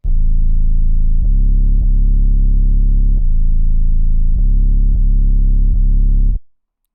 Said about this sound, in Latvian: 808s no Osama Sun, Flex Music, Drum Kit.